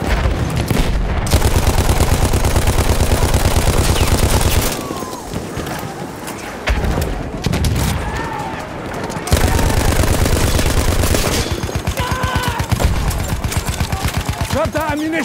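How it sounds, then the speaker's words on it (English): Rapid, loud bursts of machine gun fire in the World War I shooter Battlefield 1, sustained rattling volleys with short pauses between them, while voices shout over the battle. "Yes, an enemy machine gun!"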